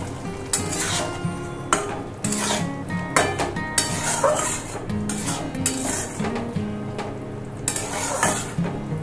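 Pointed gourd seasoned with salt and turmeric fries in a pan while a utensil stirs and scrapes it, making repeated clanks and scraping over a constant sizzle, close and loud, with no talk.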